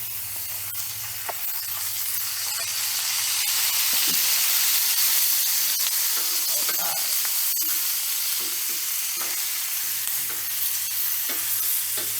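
Italian sausage and peppers fry in oil on a Blackstone griddle, giving a steady, close, bright sizzle throughout, broken by occasional scraping and clicking of a spatula, with no talking.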